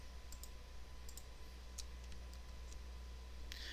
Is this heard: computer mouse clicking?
yes